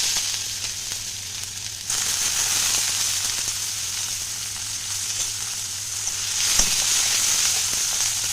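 Chopped onion, grated ginger and whole cumin seeds hiss and crackle steadily in a pan of hot oil over a low gas flame, with a louder sizzle surge as ingredients are added near the end; no talking.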